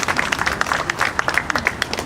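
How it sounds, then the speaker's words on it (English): A civic proclamation audience in Edmonton claps in a brief round of applause, a scattered patter of hands from a modest crowd, moderately loud. "Please give them a round of applause for that."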